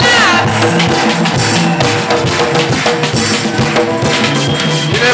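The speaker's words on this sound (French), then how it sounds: "Avec des acclamations là-bas, Jésus." A church revival congregation cheers and shouts in praise, loud and crowded, with voices and music mixed through the sustained din.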